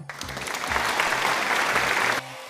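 A loud burst of group applause for Bonnie, dense and steady for about two seconds before cutting off abruptly.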